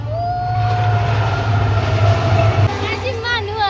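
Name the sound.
passenger train passing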